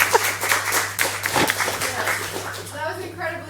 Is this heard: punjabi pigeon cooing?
no